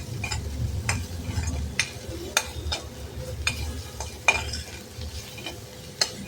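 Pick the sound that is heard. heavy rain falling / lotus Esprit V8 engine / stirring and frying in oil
stirring and frying in oil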